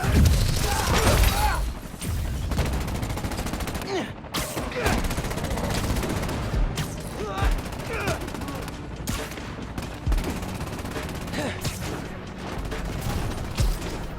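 Rapid bursts of gunfire and booms erupt in the video game Marvel's Spider-Man: Miles Morales, dense volleys firing repeatedly over crashes and other game sounds, with voices heard at times.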